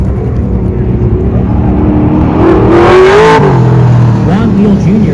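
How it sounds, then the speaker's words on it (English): A 1988 Camaro accelerates hard on an autocross course, the engine note rising and falling as it slides through a turn, loud and close, with a voice talking over it. "Juan Neal Jr. falling around in this 88 Camaro"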